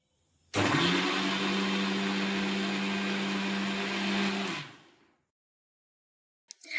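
Kitchen blender grinding rice with cashews, almonds and milk into a paste, a loud steady motor whir running about four seconds, then winding down into silence.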